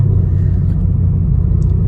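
A 2017 Chevrolet Camaro SS with its LT1 V8 and Valvetronic exhaust rumbles deep and loud up close, a steady throbbing low burble.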